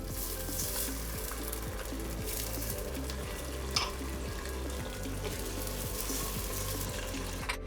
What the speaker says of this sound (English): you need to fry the onion and the chili a little bit to mix up